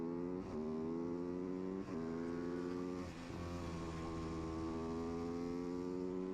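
Supermoto motorcycles racing on a track at the North American Super Moto Shootout, a steady, buzzing engine whine with shifting pitch and brief dips, heard at a distance with no talking.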